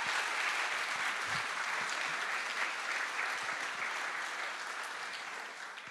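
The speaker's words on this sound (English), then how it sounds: "round of applause for Alex" Sustained applause from a conference audience at a closing ceremony in Marbella, Spain, a dense wash of many hands clapping that holds steady and fades slightly toward the end.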